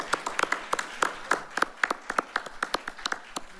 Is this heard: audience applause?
yes